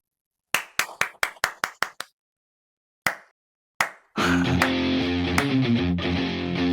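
Sharp hand claps in a comedy short film: seven quick claps in a brisk run, a pause, then two separate single claps, followed by music starting up and continuing.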